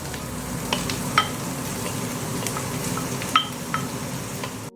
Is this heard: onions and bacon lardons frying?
yes